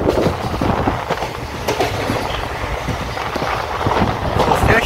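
A train rolling into a station on the Tiruchchirappalli Express line, a steady rumbling wheel and carriage noise with faint clatter, heard from on board at moderate loudness.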